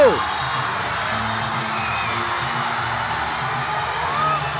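A basketball crowd in Lucena rises to its feet during a tight playoff game, a steady roar of cheering and whooping filling the arena under an excited voice.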